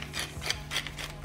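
Pepper mill grinding pepper over a ribeye steak being seasoned with salt and pepper, a quiet close rasping with several short twisting bursts in an uneven rhythm.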